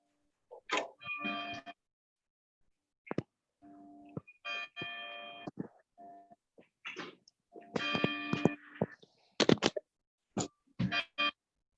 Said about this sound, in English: The bells are tolling.